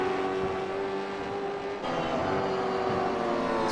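A race car engine in the iRacing sim drones steadily with layered harmonic tones, shifting pitch briefly partway through as if changing gear, heard alone without voices.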